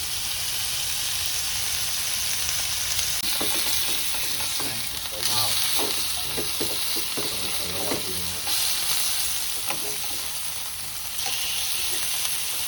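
Food crackles and sizzles steadily in a hot pan, with occasional clinks and stirring scrapes, close and continuous throughout.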